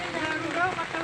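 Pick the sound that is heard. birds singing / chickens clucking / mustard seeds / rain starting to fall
rain starting to fall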